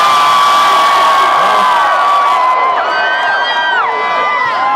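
A large festival crowd at a concert cheers and screams loudly and continuously, with many high voices whooping, the roar swelling and falling while staying dense throughout.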